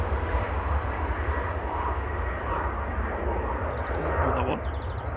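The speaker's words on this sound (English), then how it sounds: "DHL's GDHLS going from Reykjavik to East Midlands, 767-300ER, Boeing converted freighter for DHL" A DHL Boeing 767-300ER converted freighter, bound from Reykjavik to East Midlands, at Manchester Airport: a steady, loud broadband engine roar, close and continuous, with a brief faint tonal sound near the end.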